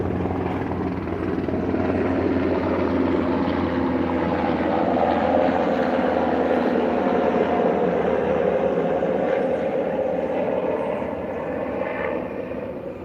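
A helicopter passes overhead, its rotor thrumming steadily loud for several seconds before slowly fading away.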